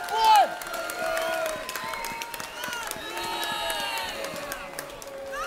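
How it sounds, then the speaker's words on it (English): A boxing crowd at a Battle of Britain fight night applauds and cheers after three rounds, a steady roar of clapping and whoops with voices mixed in throughout. "a big round of applause for both of these men after three excellent rounds"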